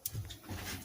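A brief, faint whimper from a dog, soft and close, with a little snuffling breath.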